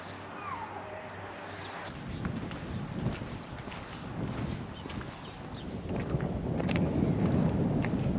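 Wind buffets the microphone on a cold coastal walk by a golf course, in a continuous rumbling roar that grows stronger toward the end.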